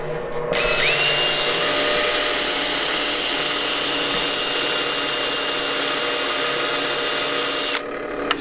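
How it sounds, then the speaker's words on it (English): A grinder grinds the face of a metal wheel marking gauge part, giving a loud, steady high whine that starts abruptly, holds for about seven seconds, then cuts off. "I'm going to take this over to my grinder, Dave."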